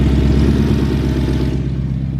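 A BMW E92 M3 in limp mode with failed throttle actuators, the engine idling rough with a steady low rumble and a faint uneven pulse, close by and with no voices.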